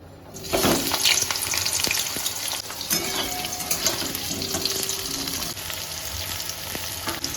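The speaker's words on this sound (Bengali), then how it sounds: "এবার এই তেলেই আমরা প্রথমে উচ্ছেটা ভেজে নিব" Loud, continuous sizzling of bitter gourd frying in hot oil, up close, with occasional stirring clinks and no voices.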